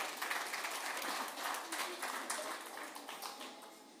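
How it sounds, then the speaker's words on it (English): An audience applauds after presentations at a conference session on zero waste and zero emission goals for municipal solid waste, a steady, fairly faint wash of clapping that runs for about four seconds and eases off slightly toward the end. "Give applause to all of the speakers."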